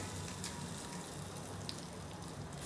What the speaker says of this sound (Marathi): जिरं तडतडल्याचा छान आवाज येतोय